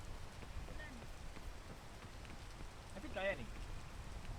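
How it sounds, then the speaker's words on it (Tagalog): Rain falling outdoors on a mountain peak adventure, a steady soft patter on surfaces under low ambient noise, with people talking nearby throughout. "Ulan."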